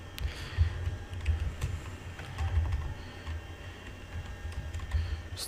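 Keys clatter on a computer keyboard as a street address is typed into an online lottery application form: quick, irregular clicks in a steady run, close and clear, with no voices.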